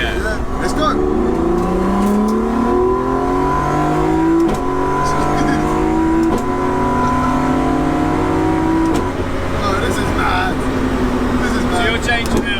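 A BMW E30 with a 2.9-litre stroker engine and air-shift sequential gearbox accelerates hard from inside the car, engine notes climbing in repeated pulls broken by quick upshifts, loud and close, with voices talking over it.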